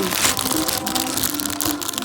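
Crinkly plastic rustling and tearing of a Lego bag being opened, close and continuous for a couple of seconds, with no talking.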